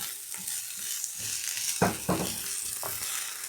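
Garlic cloves and zucchini fry in a pan with a soft sizzle, broken by a few sharp stirring scrapes clustered in the middle. The cooking sounds are close and moderately quiet, with no voices.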